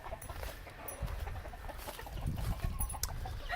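Chickens clucking outdoors on a farm, including white crested black Polish and olive egger birds, with scattered soft clucks and calls at moderate distance.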